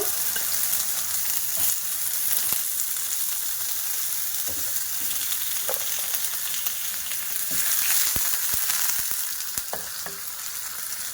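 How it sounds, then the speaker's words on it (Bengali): Chopped tomato fries in oil in a frying pan, giving a loud, continuous close sizzle with occasional stirring clicks and no talking. "তার একটু ফ্রাইং প্যানে তেল দিয়ে দিলাম"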